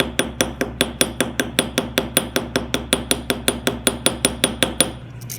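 A small hammer taps a jewelry rivet through sheet metal in a steady, quick series of about twenty-five light metallic strikes, close and alone with no talking.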